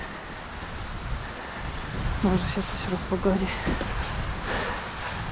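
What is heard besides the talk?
wind and rain on a mountain hiking trail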